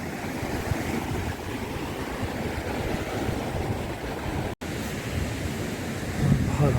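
Sea waves wash onto a beach in northern Morocco, a constant loud hiss of surf with one brief dropout near the end.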